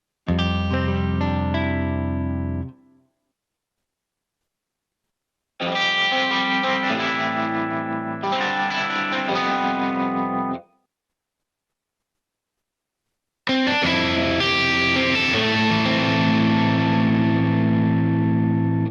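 Electric guitar played through several Electric Mint effect presets in three separate bursts, each with a different tone, sustained chords with heavy processing and gaps of silence between.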